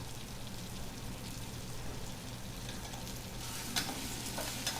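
Onion, tomato and salt frying in a pan for fenugreek kuzhambu, a steady close sizzle like light rain with a few sharper crackles and stirs near the end.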